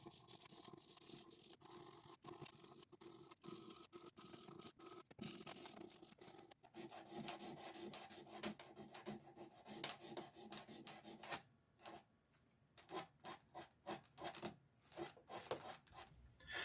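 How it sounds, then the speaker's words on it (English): 400-grit sandpaper rasps back and forth over the fret ends of an inexpensive guitar neck, close rhythmic scratching strokes with short pauses and no talking. "I'm just using the sandpaper here to do the same thing"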